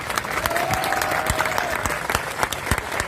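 Crowd applause at a public gathering honouring Rajasthan police officers, loud dense clapping with sharp individual claps standing out and some voices beneath.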